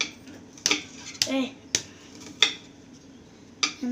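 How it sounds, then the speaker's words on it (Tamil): Onions being chopped for a homemade pizza: a knife strikes a cutting board in sharp, irregular taps, about half a dozen close clicks with short pauses between them. "நம்ம வெங்காயம் கட் பண்ண போகிறோம்"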